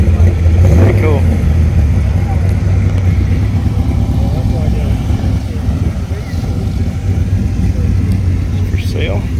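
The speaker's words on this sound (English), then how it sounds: "I love these drive-bys." Cars cruising past at the Tri 5 Nationals car show, a steady low engine rumble running throughout with people talking nearby over it.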